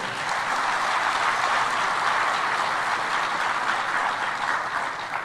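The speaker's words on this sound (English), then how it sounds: "I think he really deserves that clap." An audience at a business forum opening ceremony applauds, a loud, sustained wash of many clapping hands that stays even throughout without pause.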